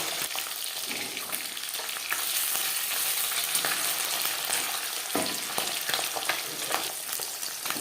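Pabda fish frying in oil in a pan, a loud continuous sizzle and crackle with occasional scrapes and clinks of a spatula being stirred or turned, no talking.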